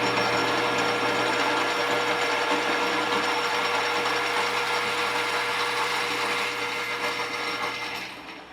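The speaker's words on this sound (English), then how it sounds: "So now the lead screw turns." A lathe with its lead screw engaged and turning for thread cutting, a loud continuous mechanical whir with gear and drive hum that fades slightly at the end.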